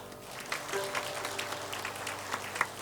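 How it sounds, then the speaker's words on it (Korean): Church congregation clapping during a Sunday worship service to welcome new ministers; a moderate, scattered round of applause from a room full of people, steady throughout at a fairly soft level with no talking. "우리 따뜻한 사랑의 마음과 또 격려의 마음을 담아서 우리 크게 박수하도록 하겠습니다."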